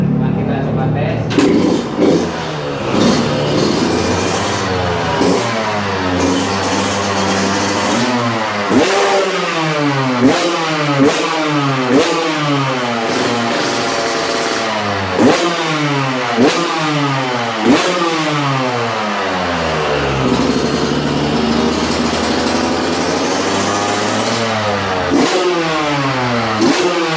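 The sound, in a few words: Yamaha YZ125X two-stroke dirt bike engine revving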